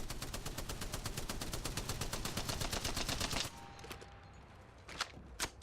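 Rapid automatic gunfire from a weapon with heavy recoil in Apex Legends, a long evenly spaced burst of sharp shots fired at a distant target, then a brief pause and two more separate loud shots.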